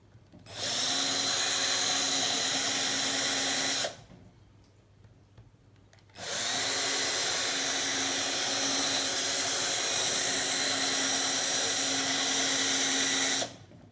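A power drill boring a hole through a bicycle crank arm, two sustained whining runs of about three and two-thirds and seven seconds separated by a brief quiet pause, loud and close with no talking.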